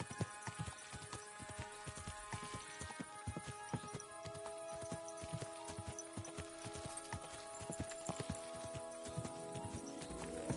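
A horse clip-clops steadily on hoofbeats in Kingdom Come: Deliverance 2, a quiet, even rhythm of footfalls over a soft ambient background without talk.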